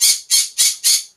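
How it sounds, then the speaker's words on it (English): A real bird squawks four times in quick even succession, loud and close, each call a harsh bright burst. "Oh, there's a real bird sound."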